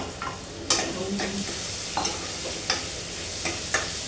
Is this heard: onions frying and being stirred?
yes